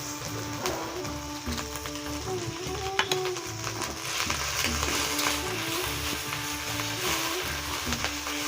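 Ginger garlic paste sizzles in a pan of softened onions, a steady crackling hiss with faint clinks, set in a village kitchen while fish is being cooked.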